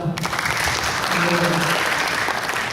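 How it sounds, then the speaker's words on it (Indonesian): Seminar audience at a national religious studies seminar and alumni gathering applauds, a loud, dense, continuous roar of clapping with a faint murmur of voices beneath it. "Sekali lagi tepuk tangan untuk kita semua."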